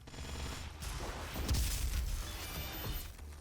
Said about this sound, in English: to your minigun and do damage using the minigun